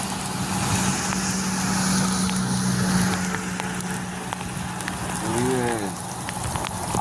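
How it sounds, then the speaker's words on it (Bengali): Heavy rain drums steadily on the roof and windows of a car, heard from inside as a dense, continuous patter, with a faint voice briefly audible. "গাড়ি থেকে বেরোতে পারছি না, কি বৃষ্টি দেখো"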